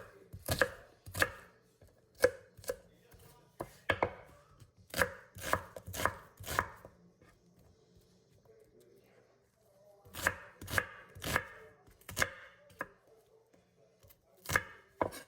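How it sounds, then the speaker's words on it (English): A knife roughly chops vegetables for split pea soup on a cutting board, sharp close knocks in quick bursts of several strokes separated by short pauses. "So a good rough chop is all you need."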